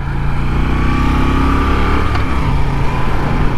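Engine of a 2021 Moto Guzzi V7 Stone 850 motorcycle on the move, a steady close mid-range drone with low throbbing pulses throughout and no talk.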